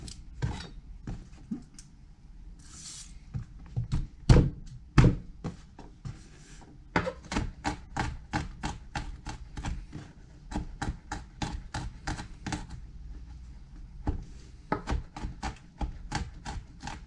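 Garlic cloves, four or five of them, being chopped with a knife on a board while making chili: a steady run of sharp, close taps, sparse and uneven at first and then settling into a quick regular rhythm.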